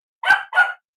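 Two sharp dog barks in quick succession, close and loud, with silence before and after.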